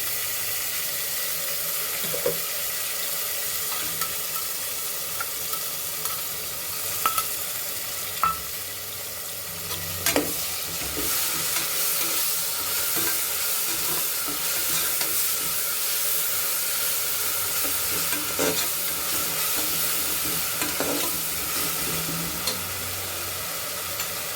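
Chicken with ginger-garlic paste and ground green masala frying in oil for Mallika biryani, a continuous close hiss and sputter with occasional sharp clicks and spatters, steady throughout with no speech.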